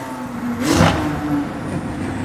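A McLaren 600LT's turbocharged engine in a convoy in the mountains around Hollywood, with a brief loud rushing swell of engine and turbo sound that fades back into a steady driving hum.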